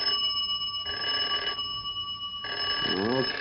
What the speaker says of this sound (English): that dead-blamed telephone ringing